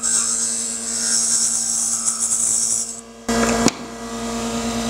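Wood being turned into earrings on a lathe with improvised scrapers such as screwdrivers and dental picks: a steady high whine with motor hum, broken by a brief louder scraping burst near the end.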